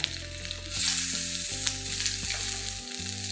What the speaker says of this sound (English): everything is chopped a little bit and then we're gonna start frying them